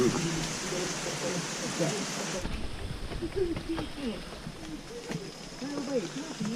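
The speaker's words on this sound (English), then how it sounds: "the rain's stopping a little bit now" Rain falls at Primate Lodge in Uganda as a steady hiss, softening partway through, while voices talk nearby over it.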